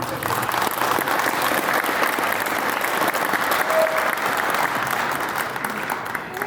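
Sustained applause from a gathering of motorcyclists honoring a deputy in a state congress chamber, a dense, even patter of clapping throughout at moderate loudness.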